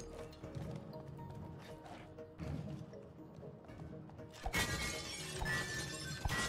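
Glass shatters in the video game It Takes Two, a loud bright crash partway through that bursts in and lingers over game music and clatter.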